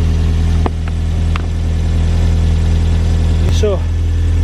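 A Toyota MR2 SW20 engine idles steadily while warming up after a radiator replacement, with an even low rumble, loud and close, and a few brief clicks and squeaks over it.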